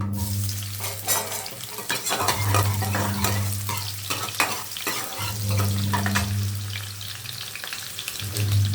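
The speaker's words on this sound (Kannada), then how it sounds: "ಎಣ್ಣೆ ಕಾದಿದೆ ಈರುಳ್ಳಿ ಹಾಕ್ತೀನಿ" Onion dropped into hot oil for an egg sambar sizzles steadily and loudly, with scraping stirs and clatter throughout.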